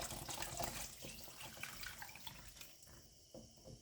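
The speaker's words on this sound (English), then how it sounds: "We're going to go ahead and carefully pour that in." Veggie stock poured into a cooking pot for broccoli pasta, a steady liquid splash and gurgle that runs for a few seconds and then thins into a few last drips, with no talking.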